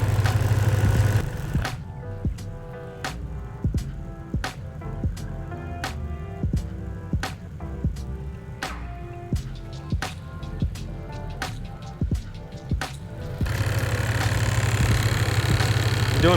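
A rebuilt EAS air-suspension air compressor runs and vibrates, a steady mechanical drone with regular rhythmic knocking pulses, close and fairly loud, bracketed by a louder rumbling hum before and after.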